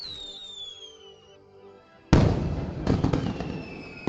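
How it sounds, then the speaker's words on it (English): A quiet tonal hum gives way to a sudden burst of fireworks, followed by a rapid crackling series of bangs and pops at moderate distance. "There are the fireworks."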